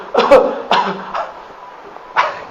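Several short coughs or throat-clearing bursts, close and fairly loud, spaced irregularly with a pause before a final cough.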